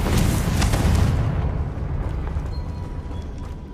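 A Confringo explosive spell going off in Hogwarts Legacy, one loud booming blast that rolls and decays into a rumbling tail over a few seconds, alone.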